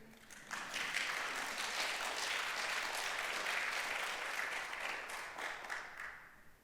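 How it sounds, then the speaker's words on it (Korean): A church congregation breaks into sustained applause during a Sunday sermon, steady and fairly loud throughout, thinning toward the end. "이럴 땐 박수 치셔도 돼요."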